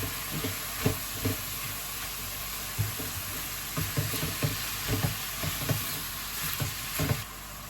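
Minced beef sizzles steadily in a hot pan while a utensil stirs and breaks up the lumps, giving irregular scraping knocks over a continuous frying hiss.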